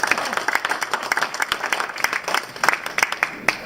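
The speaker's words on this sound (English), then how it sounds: "Let's give them both a big round of applause." A lunchtime audience at a magician's show applauds volunteers coming up on stage, a brisk, close patter of many hands clapping with voices mixed in.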